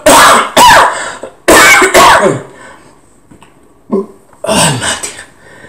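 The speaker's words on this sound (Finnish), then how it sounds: "Aivas, siis yskittää." A person coughs hard several times in close, loud bursts, two quick pairs, then a short pause before a final rougher coughing fit.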